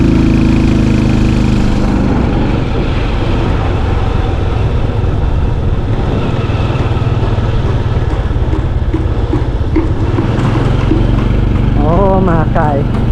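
A motorbike ridden in Vang Vieng, Laos drones loudly and steadily, its engine mixed with rushing wind noise, and a voice is heard over it.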